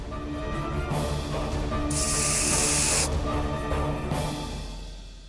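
An aerosol spray can discharged in a short burst, a bright hissing spray lasting about a second over a busy background of music and ambience, no speech.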